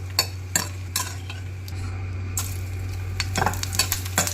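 Chillies being stir-fried on a low flame, soft sizzle beneath intermittent scrapes and clinks of a spatula against the pan, close by, over a constant low hum.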